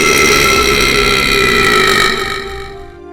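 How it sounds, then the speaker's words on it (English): A gamer lets out one long, loud, rumbling burp that holds for about two seconds, then trails off into quiet, close to the microphone with no talk. "I have made it my mission to compile 100 burps and put them into one video for your enjoyment."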